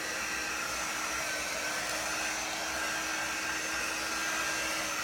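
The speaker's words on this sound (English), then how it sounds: "I've also got my other heat tool," A heat tool blows hot air to dry ink on a shirt, giving a steady, loud, unbroken rushing whoosh, like a hair dryer, with no talking over it.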